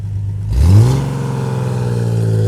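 A 1971 Datsun 240Z engine starts and revs up sharply, then settles into a steady, throaty idle close by, loud and alone with no voices.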